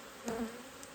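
Honey bees make a continuous, fairly close buzz from an open hive during a summer colony inspection, with a slight swell partway through and no talking.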